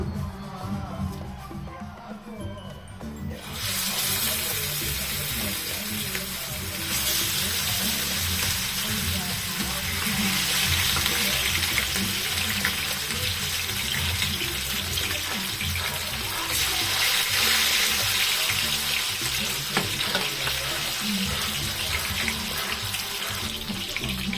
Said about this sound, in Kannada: ಇವಾಗ ಬಿಸಿ ಆಗಿದೆ, ಹಾಕ್ತೀನಿ ಫಿಶು